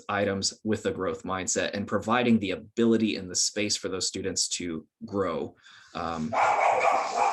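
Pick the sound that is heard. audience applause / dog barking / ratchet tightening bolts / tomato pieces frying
dog barking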